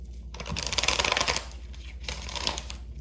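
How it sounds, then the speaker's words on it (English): A tarot card deck is riffle-shuffled twice in quick succession, a close, crisp flurry of rapid flicking with a brief pause between. "I haven't shuffled this deck in a while."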